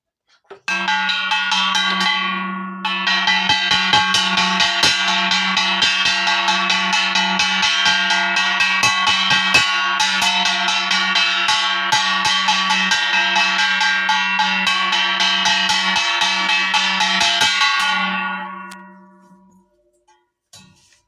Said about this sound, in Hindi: घंटी बजाउची